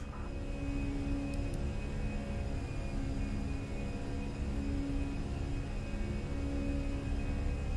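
Airbus A320 jet engines at climb thrust in Microsoft Flight Simulator give a steady, continuous roar with a low rumble and faint tonal whine, holding level throughout with no talk.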